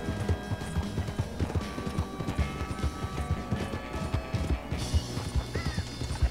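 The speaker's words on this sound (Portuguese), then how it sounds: "Norfolk Roadster, o melhor cavalo do jogo." A Norfolk Roadster horse in Red Dead Online trots with rhythmic, close clip-clop hoofbeats and faint tack jingle, steady throughout the clip.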